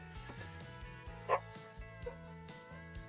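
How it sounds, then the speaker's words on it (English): A dog yips and barks a few times, faint and somewhat distant, over a steady melodic game music bed while a game is developed in Unreal Engine 5. "Freaking dogs."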